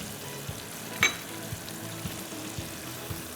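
Curry leaves hitting hot oil give a soft, low sizzle with one brief crackling burst near the start, then faint steady frying punctuated by small regular ticks, quiet and close.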